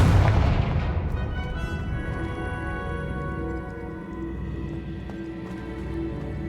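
Fiery Confringo spell blasts from Hogwarts Legacy open with a heavy booming impact, then a long ringing, shimmering magical tail with faint crackles that slowly decays over several seconds.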